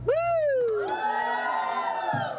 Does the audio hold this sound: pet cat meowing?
no